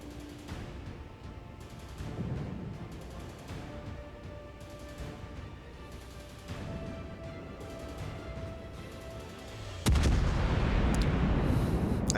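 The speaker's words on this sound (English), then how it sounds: "one battleship shooting me from the front at a time" Battleship guns fire in a naval battle video game, with dull distant booms and rumbling salvos that end in one sudden, much louder blast near the close.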